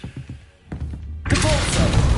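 Revelio spell cast in Hogwarts Legacy: a few soft thuds, then a sudden loud, bright magical whoosh that swells and sustains, layered with shimmering tones.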